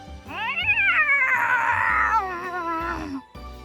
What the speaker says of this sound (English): it lets out a single disgruntled meow